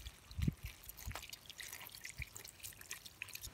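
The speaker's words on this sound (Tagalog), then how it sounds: "hugasan muna natin yung mga gulay natin." Vegetables being rinsed outdoors for backyard pork liempo sinigang, with faint scattered drips and small splashes of water, quiet and close, with no talk.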